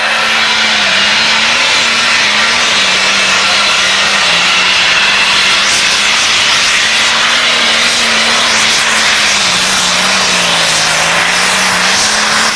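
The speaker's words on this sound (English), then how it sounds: "This is a 6030 John Deere. Runs very, very well." A loud, continuous engine roar from a John Deere 6030 pro stock pulling tractor, droning steadily at a high pitch with slight wavering, heavy and close throughout with no pauses.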